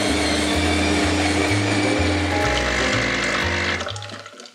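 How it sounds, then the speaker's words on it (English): A home coffee machine brews coffee for a pumpkin spice latte, a loud close pumping drone with a rhythmic low pulse and liquid flow that tapers off at the end, with no talking. "That's our coffee machine, but we hardly ever use it because we drink tea, but we need some coffee for the pumpkin spice latte."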